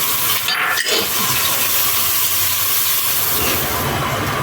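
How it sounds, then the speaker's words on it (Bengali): Onions dropped into hot oil in a pan, a loud, continuous hiss of sizzling that stays close and steady throughout. "আমি এখন এই তেলে পেঁয়াজ দিয়ে দিচ্ছি"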